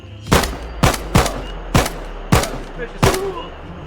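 Rifle gunfire in the video game Incursion Red River, with six sharp, loud shots spaced irregularly about half a second apart.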